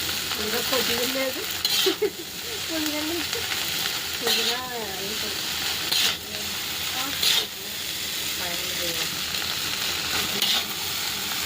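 Chilli powder being stirred into food frying in a hot pan, steady sizzle and hiss with scraping stirs, a voice talking over it now and then.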